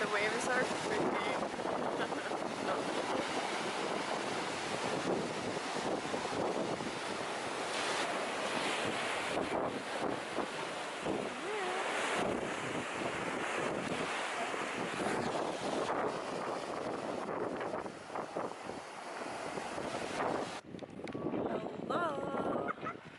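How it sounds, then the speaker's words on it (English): Ocean waves roll and wash onto a beach at El Nido, Palawan, a continuous loud surf roar buffeted by wind hitting the microphone, with voices talking faintly over it and the rumble easing near the end. "Here, the waves are pretty."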